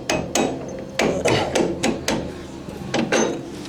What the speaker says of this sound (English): Get a hammer and